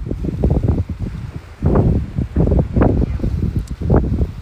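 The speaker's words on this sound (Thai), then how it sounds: "对，风挺大的" Strong wind buffeting the microphone outdoors just after rain, a loud rumbling roar that surges in heavy gusts with brief lulls between, no speech.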